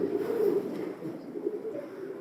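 Racing pigeons coo nearby in a continuous low, rolling murmur, swelling and easing in soft pulses with no voices.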